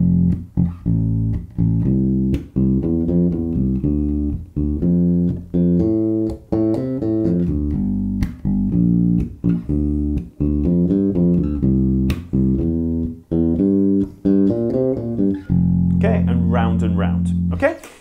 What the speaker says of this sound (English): So the bass line is going to sound like this.